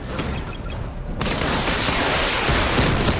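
Batmobile tank missile barrage in Batman: Arkham Knight, a sudden dense volley of launches and explosions that bursts in loudly after a brief mechanical lead-in and keeps roaring to the end.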